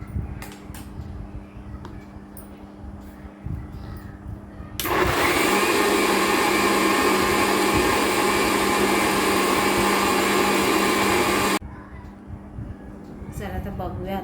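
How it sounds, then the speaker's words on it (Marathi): A mixer grinder blends mango pulp for aamras, kicking in abruptly with a loud, steady whirring roar that holds for about seven seconds before cutting off, with quieter kitchen background before and after. "तर परत मी मिक्सर लावणार आहे"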